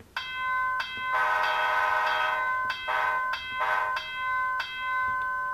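An HO scale model locomotive's sound-effect horn and bell: clean tonal horn blasts of varying length with bell-like dings between them, close and clear with no talking.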